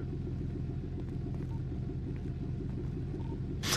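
Steady low rumble of a Peugeot car engine in a roleplay video game, idling evenly with no speech over it and a brief sharper noise at the very end.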